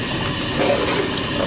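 A large pot of chicken pulao biryani, five kilograms, starts to come to the boil with a steady, fairly loud hiss and bubbling rumble that runs unbroken throughout, with no talking.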